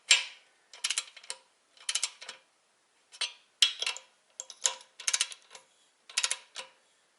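A torque wrench clicks while engine cylinder head bolts are tightened during a head gasket replacement on a D-250 engine, giving sharp close metallic ticks and ratcheting clusters spaced through the clip, with no talk.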